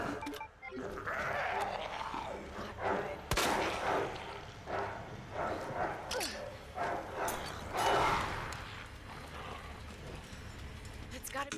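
Dogs bark repeatedly in Resident Evil 2 (2019), sharp yelps mixed with bursts of gunfire and other game sounds throughout, fairly close and busy.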